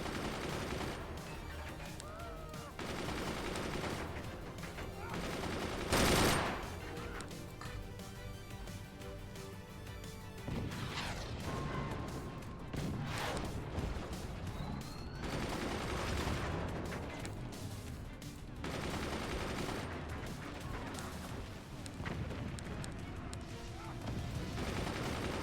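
Sniper rifle shots and other weapon fire ring out in the artillery strategy game Forts, with a sharp loud blast near the six-second mark over a dense, continuous battle din.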